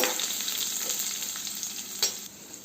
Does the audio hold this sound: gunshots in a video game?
no